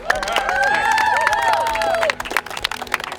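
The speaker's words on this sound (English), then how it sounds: "in front of the team with them cheering me on" Running teammates cheer and clap in a lively burst, rising voices and whoops merging with scattered hand claps that grow sharper and more uneven near the end.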